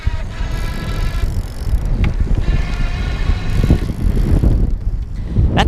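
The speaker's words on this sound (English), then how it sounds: "you can still hear the motor going because it's an internally geared hub motor" An Easy Motion Evo City+ e-bike rides on pedal assist, its internally geared hub motor whirring faintly beneath steady wind rush and road noise.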